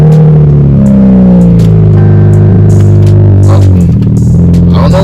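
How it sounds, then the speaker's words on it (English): A car engine starts and settles into a loud, steady idle close by. "I'll start the car."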